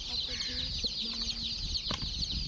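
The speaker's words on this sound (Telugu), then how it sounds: "ఇప్పుడు మనకు కనిపిస్తున్న కోడిపిల్లలు వచ్చేసి బ్లాక్ అండ్ వైట్లో ఉన్న కోడిపిల్లలేమో బొంత కోడిపిల్లలు అంట" Young black-and-white and colored chicks give soft, scattered chirps and cheeps close by, with a steady high hiss of background noise.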